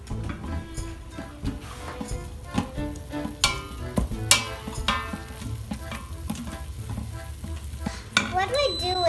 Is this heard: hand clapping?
no